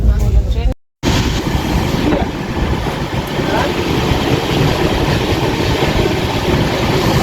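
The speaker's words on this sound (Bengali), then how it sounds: "গাইস ট্রেনের স্পিড ডাউন।" Train carriage interior on a long-distance journey, with loud continuous rumbling and rattling of the moving train, close and steady after a brief silent gap near the start.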